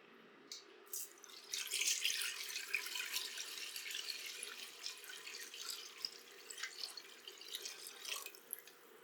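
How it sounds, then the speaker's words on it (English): Cold water runs steadily from a tap into a pot, about 3.5 liters, a continuous splashing pour lasting several seconds, fairly quiet and close. "So I'm going to add in my water now"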